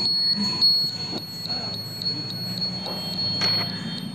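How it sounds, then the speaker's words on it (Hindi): A motorcycle side indicator flasher buzzer beeps repeatedly, a steady rapid train of short high electronic beeps over a low hum, close and continuous, with no talk. "बिलिंग भी कर रहा है और बीप भी बज रहा है, मतलब बजर भी चालू है।"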